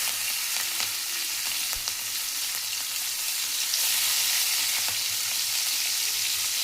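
Green chillies and cumin seeds sizzling in hot oil, a continuous bright frying hiss with faint pops and a few soft stirring taps scattered through, no voices.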